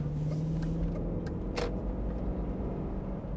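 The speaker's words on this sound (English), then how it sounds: "let's just listen to this V8 once more." A cheap, troubled V8 Range Rover runs at a steady low idle, a continuous deep rumble heard close up with a brief higher whoosh partway through.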